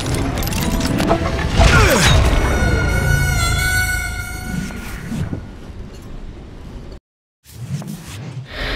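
Freight train rolling in a Western shooter game, loud rumbling and screeching wheels with a sustained tonal horn-like whine, fading before a brief gap and a final rumble.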